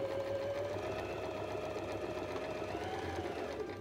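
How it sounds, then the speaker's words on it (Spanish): A sewing machine runs steadily, stitching a straight seam along a strip of tape, its even mechanical whir close and fairly quiet with no voices. "Ubicamos en la máquina y realizamos una costura recta."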